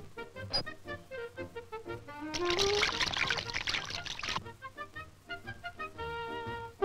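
Water poured into a baby's bathtub in a cartoon, a steady rushing pour lasting about two seconds in the middle, set between stretches of light cartoon music.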